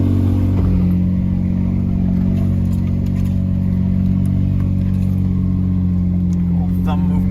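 An off-road vehicle climbs a trail that gets icy in winter, in the Okanagan. Its engine drones steadily and loudly throughout, close to the listener, with a voice talking over the engine.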